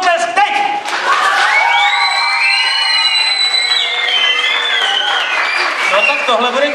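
Children at a masked ball clap and cheer together, with shrill shouts and whoops soaring over a continuous bed of applause, loud and close throughout.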